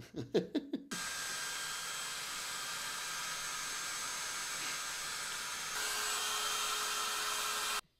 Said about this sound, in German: das sind diese richtigen Föhne aus diesen Billo-Hotels in Ägypten